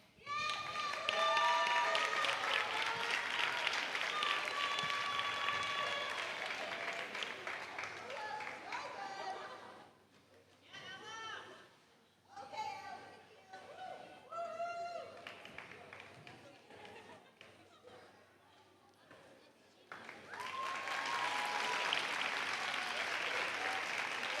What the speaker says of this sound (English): Let's please all give one more huge round of applause for our seniors.